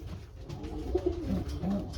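Racing pigeon cocks coo softly at close range in a loft, a series of low rolling coos with short pauses between them and no talking.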